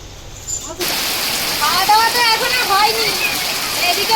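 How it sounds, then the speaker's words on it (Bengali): Heavy rain pours down in a steady, dense roar that surges in abruptly after a brief quieter moment and keeps drumming loudly to the end. "খুব জোরে বৃষ্টি এসে গেছে"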